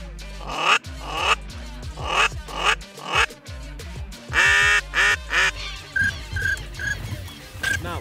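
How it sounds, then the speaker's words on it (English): Ducks quacking from a small pothole in the reeds during a waterfowl hunt in Argentina, a busy chorus of repeated harsh quacks and calls rising and falling through the whole stretch, fairly close and loud. "we've been watching ducks all morning pile in this little pothole in the reeds here"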